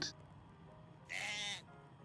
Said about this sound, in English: Sounds like a sheep and then it just like tackles you or something.